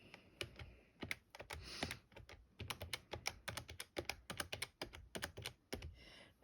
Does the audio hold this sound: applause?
no